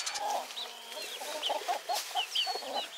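Several hens cluck in short, repeated bursts, with a few higher squawks mixed in, close by and fairly steady over a few seconds.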